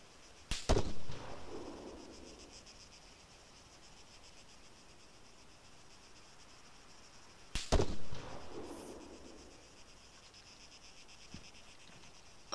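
Two sharp rifle shots ring out in the military shooter game Arma III, several seconds apart, each followed by a brief echoing tail over a quiet background of insect-like chirping.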